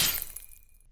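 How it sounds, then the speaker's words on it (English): A bright, icy crackling burst of a frozen armor sound effect decays over under a second, like ice or glass splintering, with a thin ringing tail fading out. "I'm using this other sound effect here, the frozen armor"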